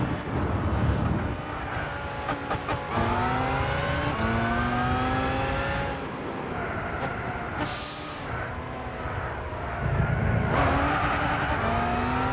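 A 2009/2013 Bugatti Veyron 16.4 races a lap in Gran Turismo 6, its engine loud and continuous, with rising and falling revs through repeated gear changes and a brief high hiss midway.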